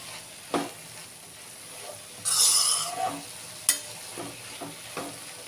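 A spatula stirs a drumstick leaf and egg stir-fry in a pan, steady soft sizzling broken by a few sharp scraping clanks and one brief burst of louder frying, with no talking.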